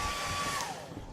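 Hair dryer running inside a video game: a steady, airy whooshing blow with a thin whine, heard briefly and fairly evenly for about a second without speech.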